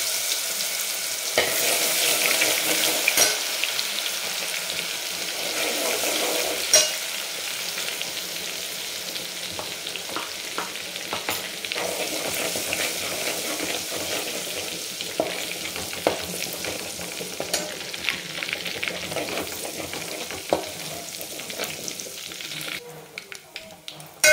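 Ginger garlic paste sizzles and spatters in two spoons of hot oil while being stirred for a spicy chicken rassa, a continuous crackling fry with occasional scraping stirs that ends abruptly.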